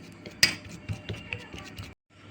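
A bowl clinks down on a kitchen surface and is handled while flour is measured in for sweet-potato pantua sweets, giving one sharp ceramic knock followed by softer scrapes and taps before falling silent.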